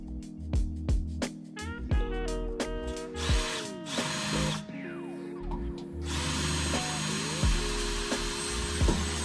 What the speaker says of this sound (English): So now I've drilled the holes for those lights to mount.